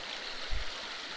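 Water flows steadily through a sluice box at Rancheria, a constant rushing, trickling wash close by with a brief low thump midway and no voices.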